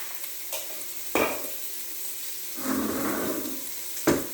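Onions sizzle softly in a pot while a spoon scrapes and knocks against the metal a few times, with one longer hissing swell in the middle; close and fairly quiet, no one speaking.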